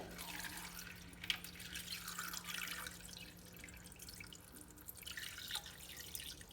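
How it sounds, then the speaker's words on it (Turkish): Cold water trickles and drips into a bowl holding gelatin sheets, soft and fairly faint, with a few brighter splashes and a steady low hum underneath. "Üstünü geçecek kadar su ekleyeceğim şimdi."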